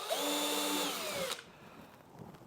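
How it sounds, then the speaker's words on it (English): Small drill bit boring holes in wood, a loud close whirring whine that rises in pitch for over a second, then cuts off abruptly, leaving quiet handling clicks. "we're going to drill out the holes a little bit first with a smaller drill bit"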